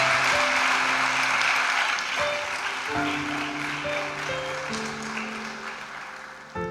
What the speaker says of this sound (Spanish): Démosle un aplauso a ese Cristo que lo ha hecho posible